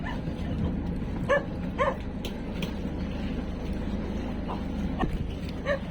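Several dogs bark in short, scattered yelps over a steady low rumble outdoors in the aftermath of a super typhoon, a few sharp calls standing out near the middle and end.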